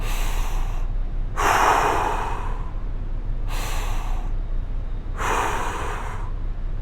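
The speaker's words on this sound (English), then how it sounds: "Then we're going to go into that recovery breathing." Slow, deliberate breaths drawn in through the nose and pushed out through the mouth during a recovery breathing exercise, four long airy breaths close to the mic over steady background hiss.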